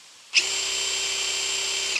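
A drill-powered pressure washer fitted with a 25 degree nozzle starts abruptly and then sprays in a steady, loud hiss with a motor whine underneath, close up and continuous, with no voices.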